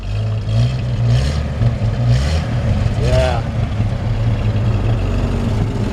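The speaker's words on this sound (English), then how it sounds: "I love the way these old trucks sound." A 1952 Chevrolet 3100 pickup truck engine idles loudly close by with a steady low rumble, while a person briefly speaks over it.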